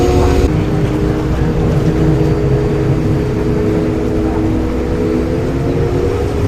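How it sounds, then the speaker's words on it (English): A motorboat cruises across the water in Venice, its engine a steady, loud drone mixed with rushing water and wind that runs unbroken from start to finish, with no talk. "Let's now get on another boat and try some more islands."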